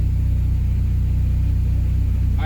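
A Honda engine idles after a cold start, a loud, steady low rumble with an even pulsing beat that holds unchanged throughout.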